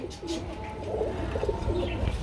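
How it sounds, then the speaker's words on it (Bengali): A Bombay pigeon cooing at close range, with soft repeated low throaty coos over faint background hiss. "বোম্বাই কবুতর আমি কিন্তু আরেকটা জোড়া দেখাবো।"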